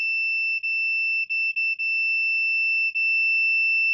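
A multimeter in diode/continuity mode gives a steady, high electronic beep continuously, broken by a few very brief dropouts, clear and alone.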